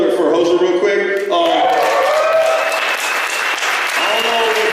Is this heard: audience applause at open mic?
yes